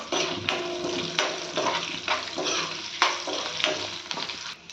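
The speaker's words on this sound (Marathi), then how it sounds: "आता यामध्ये आपण शेंगदाणे टाकणार आहोत, तेही छान लालसर भाजून घ्यायचे आहे।" Peanuts roasting in a hot pan with chopped greens for palak varan, a continuous loud sizzle and crackle broken by repeated stirring scrapes, with no talk.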